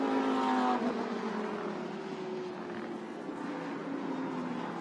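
Lamborghini Super Trofeo race cars roar past at Suzuka circuit, a loud high-revving engine wail that drops in pitch as they go by, followed by a sustained, slightly fading whine from the passing field.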